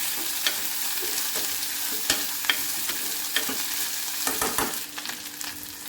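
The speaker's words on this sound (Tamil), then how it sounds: "வெண்டைக்காய் போட்டு நல்லா வணக்கிக்கலாங்க" Okra with a dried red chilli sautéed in a pan until its sliminess cooks off: continuous close sizzling broken by repeated sharp scrapes and clacks of stirring, busier toward the end.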